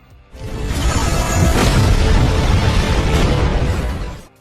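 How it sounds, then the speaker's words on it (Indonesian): A loud, sustained explosive boom from an animated battle, with a rushing roar that swells quickly, holds for a few seconds, then cuts off. "Bom-bom dan ledakan terus bergema di langit perbatasan Kekaisaran Ryu dalam kondisi kekacauan."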